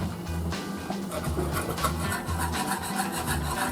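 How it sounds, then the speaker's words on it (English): A whisk scrapes and swirls through ketchup-based barbecue sauce in a bowl, making continuous rhythmic rubbing and clinking close by at a moderate level. "let's take a whisk. And whisk this stuff down."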